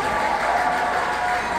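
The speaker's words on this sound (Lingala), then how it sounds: "Est-ce que vous pouvez applaudir pour le révérence" An audience claps steadily at a wedding reception (vin d'honneur), a dense, even patter of hands held close for the full moment, with a sustained tone riding on top.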